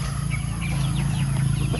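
Heritage chickens on a farm clucking and murmuring in soft overlapping calls while they eat, close by, over a steady low hum of background noise.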